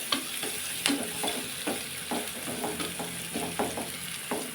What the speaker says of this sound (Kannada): ನೋಡಿ, ಈಗ ಈರುಳ್ಳಿ ಸ್ವಲ್ಪ ಫ್ರೈ ಆಗಿದೆ